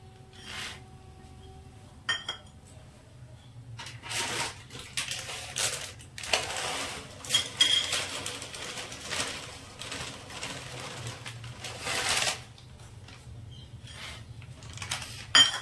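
Two bowls of crunchy sev are poured into boiling curry in a dhaba-style sev bhaji, giving crisp rustling, crunching and rasping pours in several bursts over a faint low bubbling background.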